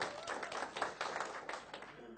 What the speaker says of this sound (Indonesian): Tepuk tangan pada semua.